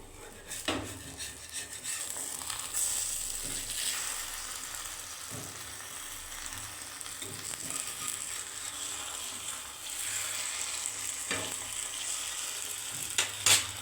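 An egg and brinjal omelette frying in a pan, a soft, continuous close sizzle punctuated by occasional scraping clicks of a spatula against the pan, quiet and without speech.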